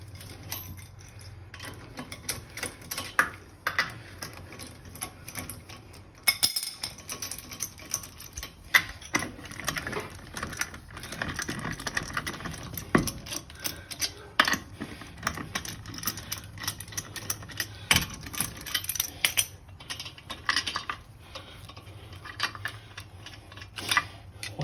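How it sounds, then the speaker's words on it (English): Lug nuts come off a wheel of a 2019 Hyundai Ioniq Hybrid Blue during a brake pad job, heard as steady, close metallic clicking and ratcheting taps that run on without a break, with no voices. "I'm going to continue removing off the lugs."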